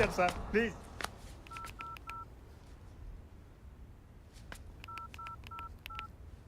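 Two quick runs of telephone keypad tones, four beeps then a pause and four more, after a brief burst of voice at the start.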